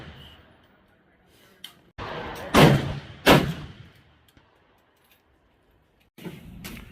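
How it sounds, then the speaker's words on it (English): A 30-30 rifle fires a 150 grain flat nose round outdoors: two sharp, loud bangs a moment apart, each trailing off, set between quiet stretches and faint rustling. "right now I'm going to shoot a round of 150 grain flat nose, just as a reference"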